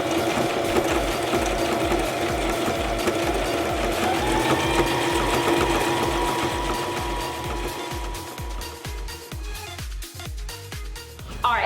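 A Brother Strong & Tough sewing machine stitching over two fabric layers and a hem, running in a loud, steady, rapid mechanical clatter that slows into separate uneven stitches near the end.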